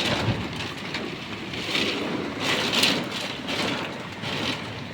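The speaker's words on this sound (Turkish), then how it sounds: "Öyle bir yağmur yağıyor ki haberlerde görürsünüz arkadaşlar" Heavy rain pours down steadily outside an open window in Ankara, a dense, continuous hiss that swells and eases slightly over a few seconds, with no one talking.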